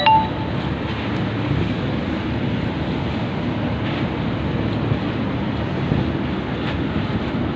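The ferry KM Zoey docks at Merak port: a steady, loud low rumble of ship engines mixed with wind and choppy water, unbroken throughout.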